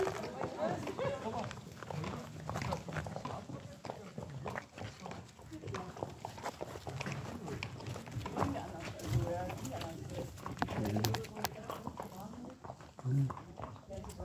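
Horses being trained clip-clop with a steady stream of hoof beats at moderate distance, mixed with ongoing human voices and general outdoor activity.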